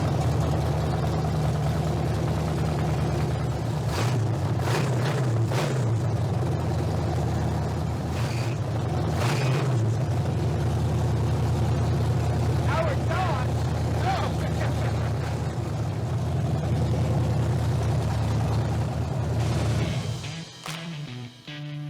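A V8 engine swapped into a Pontiac Fiero idles loudly and steadily with no exhaust fitted, a deep continuous rumble with a few sharper revs before it cuts off near the end.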